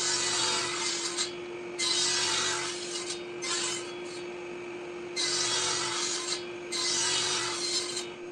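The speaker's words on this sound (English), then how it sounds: "I'm cutting it first at half depth and later at full depth just to make it easier for the saw" Saw cutting bridle joint slots in wood on a quickset tenon jig, heard as long steady rasping bursts of cutting broken by short pauses over a constant low hum, close and fairly loud.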